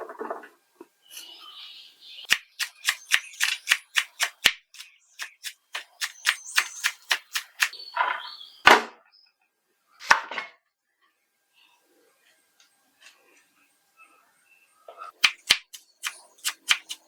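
Knife chopping two onions finely on a board for restaurant-style egg fried rice: quick rhythmic bursts of sharp taps, close and fairly loud, with short pauses between runs and no talking.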